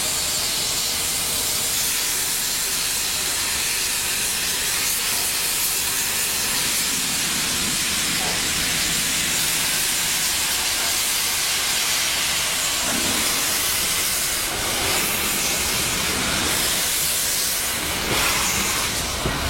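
Steam locomotive 231 K8 Pacific hisses steadily and loudly before departure, a broad continuous roar of escaping steam with a few brief surges, close by and with no talk over it.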